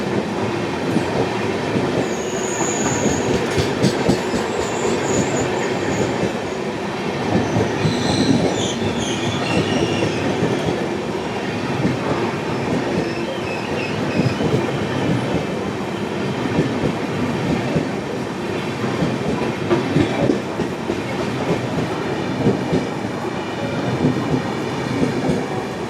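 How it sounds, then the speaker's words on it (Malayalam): The Chennai Central–Ahmedabad Navjivan Express rolls past close by, a loud continuous rumble of wheels on rail with rhythmic clatter and occasional high squeals, no voices. "ഈ വരുന്നത് MTR Chennai central Ahmedabad Navajeevan express ആണ്."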